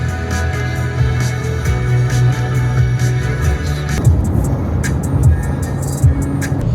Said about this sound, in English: I'm driving in the hills